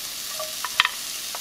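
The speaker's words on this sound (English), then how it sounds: "Now, let's start sauteing our onions." White and green onions sauté in oil in a pan, a faint, brief sizzling hiss with a couple of quick utensil clinks.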